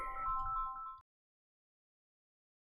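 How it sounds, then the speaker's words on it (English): A telephone rings with one short electronic chirp lasting about a second, followed by silence. "If you heard the phone, somebody tried to sell me underwear."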